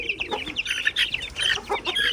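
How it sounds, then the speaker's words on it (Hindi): A rooster gives a series of quick, close clucks in a steady rhythm, with no talking. "एक ये मुर्गा है। आइए उनकी आवाज़ सुन के,"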